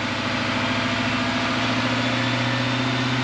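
A diesel truck engine idles with a slightly rough, faintly sputtering beat after an injector pigtail repair, a steady close drone with low throbbing pulses and no talking.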